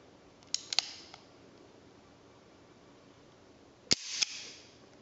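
Revolver dry-fired in double action: two separate crisp mechanical clicks of the hammer falling on an empty chamber, close up, with quiet gaps between them.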